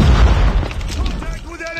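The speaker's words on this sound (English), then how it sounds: "Watch out, grenade!" A grenade explodes in the mobile shooter Call of Duty Mobile, a loud low boom at the start that decays over about a second into game sounds, with voiced callouts heard over it.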